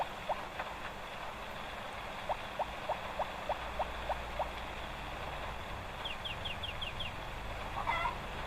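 Chickens on a farm in the video game Harvest Moon: Friends of Mineral Town, a steady series of short, evenly spaced clucks over a constant game background hum, a brief higher chirpy run near the end, no talking.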